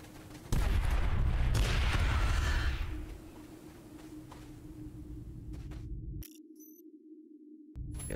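Turret gunfire from an APC in the game Aliens: Dark Descent, a loud sustained burst for about two seconds that then drops to a lower rumbling hum before cutting out.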